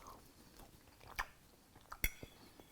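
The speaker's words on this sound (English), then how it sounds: "as soon as I finish chewing what's in my mouth" Quiet close-up chewing of a packaged outdoor survival meal, with a few soft wet bites and two sharper crunches partway through.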